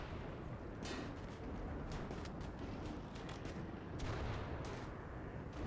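Rimworld gunfire in a zombie fight near a wind turbine, rapid cracks and bursts of shots, some clustered in volleys, over a dense rumbling battle bed.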